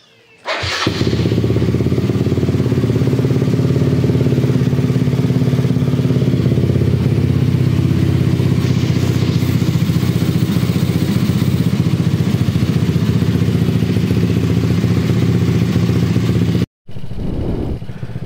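Yamaha Mio Sporty scooter engine fitted with a Koso KSR Evo 30mm carburetor and CVT tuning, running close by with a steady, loud idle drone for most of the clip before a brief cutout and restart.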